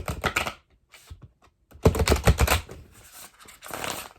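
Angel oracle cards are handled and shuffled close by, giving quick bursts of papery riffling and flicking separated by short pauses.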